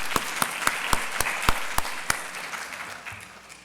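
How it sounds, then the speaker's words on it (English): Sparse applause from an awards-ceremony audience at a college of medicine honoring an absent scholarship recipient, distinct sharp claps at first that thin out and fade. "let's give her a round of applause"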